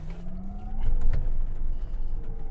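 Faraday Future FF91 electric car accelerating hard, a rising electric motor whine climbing steadily in pitch over road and tire rumble, loudest midway and sustained throughout.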